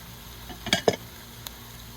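Onions and mushrooms cook in a pan, with a faint low sizzle broken by a few quick scrapes and clinks of a utensil against the pan.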